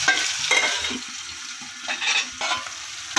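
Onions and spices frying in hot oil hiss and sizzle steadily while a spoon stirs them around the pan in short scraping strokes, close up and with no talking.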